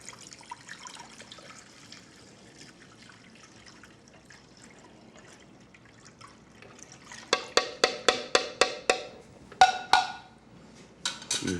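Liquid is poured into a pan around a roast, starting as a soft steady trickle, then turning into a run of rhythmic splashing glugs, close and fairly loud.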